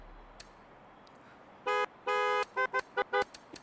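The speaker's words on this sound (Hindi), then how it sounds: "हॉर्न बहुत सारे हैं हम लोग के पास।" A car horn in the Forza Horizon 5 racing game sounds two long blasts followed by a run of short rapid toots, loud and clean against a quiet background, with no talking.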